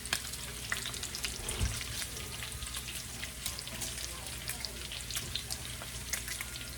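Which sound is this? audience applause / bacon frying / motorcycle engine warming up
bacon frying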